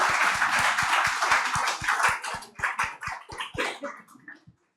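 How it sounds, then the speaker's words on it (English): Applause from the audience thanks a panel at the end of a conversation event, with sharp, regular claps near at hand that thin out and fade to silence over the last seconds. "Please give them an applause, and not for Mr. Gupta, for the panel."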